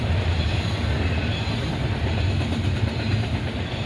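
A freight train rolls past on a busy rail line near Oak Harbor, Ohio, giving a loud, steady rumble of railcars with faint clickety-clack throughout, no voices heard.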